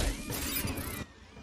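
Glass windows shatter under gunfire in Watch Dogs Legion, a loud sustained crash of breaking panes for about a second before it cuts off sharply.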